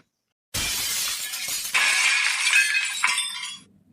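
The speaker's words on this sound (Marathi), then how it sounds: "अरे बाबा खिडकीच फोडली ना" A window pane shatters after a thrown stone strikes it: a sudden loud crash followed by a second burst of breaking glass, then tinkling shards settling and fading out over a few seconds, with no voices.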